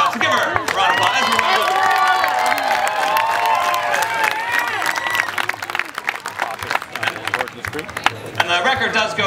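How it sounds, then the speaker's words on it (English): An audience breaks into loud applause and cheering at a Guinness world record attempt with whip cracking, clapping dense at first then thinning and swelling again, with voices in the crowd. "So give her a round of applause."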